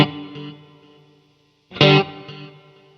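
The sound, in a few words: electric guitar with reverb effect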